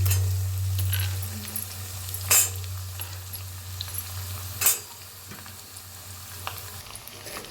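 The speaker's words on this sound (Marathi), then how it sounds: "आता टमाटर टाकूया आपण" Tomatoes with curry leaves sizzle in a pan for tomato sambar, under a constant close frying hiss broken by two sharp scrapes of a spoon stirring against the pan and lighter clinks.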